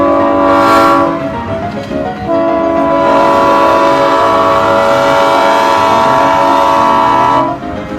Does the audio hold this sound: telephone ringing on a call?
no